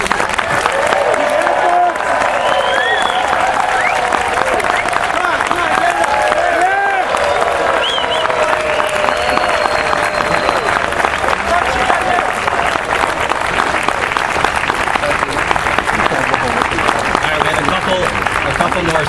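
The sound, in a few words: sustained round of applause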